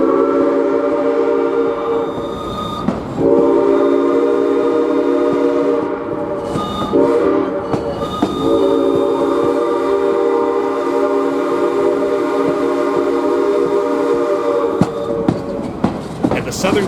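Riding behind Ventura County Railway 2 on the main line at the Southern California Railway Museum, aboard SP coach 2144: a steady loud rumble of wheels and rolling stock with sustained tonal horn or whistle notes, a few sharp clanks breaking through.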